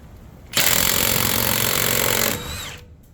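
Milwaukee cordless impact wrench, running on a fully charged forged battery, hammering loose semi-truck style lug nuts: one loud, continuous rattling burst of nearly two seconds, close up, then a short whirring spin-down.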